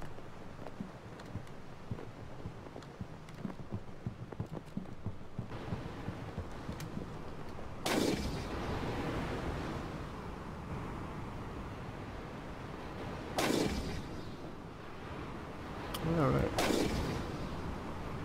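Several heavy booming ship cannon blasts in the naval battle game Blackwake, three or four spread out over the stretch, loud against a rumbling background with occasional talk.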